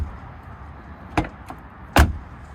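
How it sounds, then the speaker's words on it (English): A BMW's rear car door shuts with a solid thud, preceded by a lighter latch click and a smaller knock, nearby with no talking. "I don't know if you can hear the back door"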